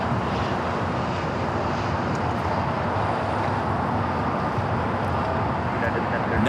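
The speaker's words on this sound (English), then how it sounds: "Next takeoff here on the south side" A jet airliner takes off from LAX on the south side, a steady, broad engine roar that stays loud and constant throughout, with traffic-like background rumble.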